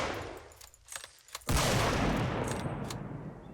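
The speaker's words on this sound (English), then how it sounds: "No, it just exploded and hurt me." A creature explodes in the video game Squirrel Stapler: quiet, scattered clicks give way to one sudden loud blast, followed by a dense, sustained rush of noise that slowly thins out, with no talking.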